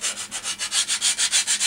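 Wooden cap rails rubbed along the edge with 80 grit sandpaper, a loud close rhythmic rasp of about a dozen even back-and-forth strokes, alone.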